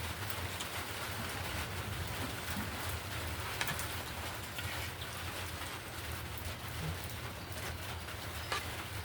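Steady rain falls outside during a stormy day, a dense even hiss with scattered drips and patter, constant and moderately distant, with no voices.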